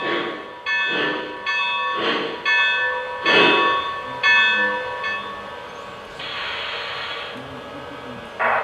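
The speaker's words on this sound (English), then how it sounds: "So the bell automatically comes on once we get below speed step 23." The bell on a Lionel Legacy 2-6-6-2 Mallet model steam locomotive rings in a steady, evenly spaced series of clear metallic strikes, about one per second, followed by a softer hiss from the model.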